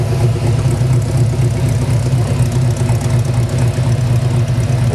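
A hot rod engine with headers and dual exhaust running all the way back idles steadily and close by, a deep, even rumble with a slight lope that stays loud throughout, with no talking.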